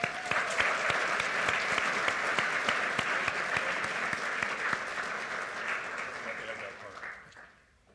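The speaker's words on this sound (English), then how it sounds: "So a round of applause for Dr. McManus" A crowd applauds steadily for several seconds, dense clapping that gradually fades out at the end.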